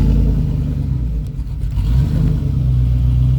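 A 5.3L Vortec engine bored out to 5.7L idles roughly and revs under throttle while the brake is held, a low, uneven rumble running continuously up close.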